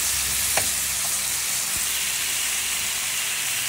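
Squash and sweet potato fry in a pan with a steady, close sizzle and hiss, broken by an occasional faint clink of a utensil.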